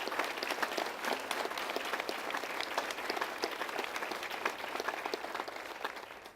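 A crowd at a welcome-home event for an Army mountain division claps for a Major General, a full, sustained round of applause with distinct individual claps standing out.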